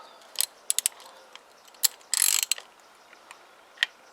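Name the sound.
socket ratchet snugging down scooter engine bolts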